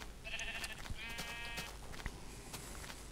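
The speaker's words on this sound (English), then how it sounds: "Here's another sheep." Faint bleats from sheep in the Minecraft video game, two short wavering calls in the first half over quiet background noise, with no talking.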